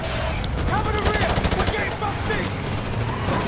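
Rapid bursts of automatic gunfire and shots from a combat mission in Call of Duty 4: Modern Warfare Remastered, loud and dense, with a voice talking over the chaos.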